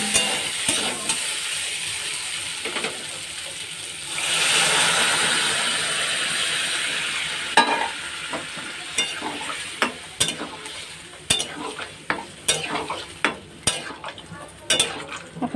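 Paneer curry cooking in a pan, with a steady frying sizzle and repeated scraping and clattering of a spatula stirring against the metal, growing more rhythmic and sharper toward the end.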